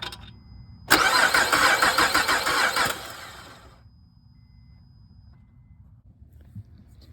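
Car engine cranked over by its starter, a loud close mechanical whirring grind lasting about three seconds before cutting out, then a quiet low hum with no talking.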